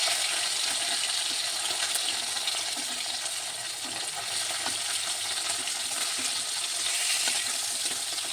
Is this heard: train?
no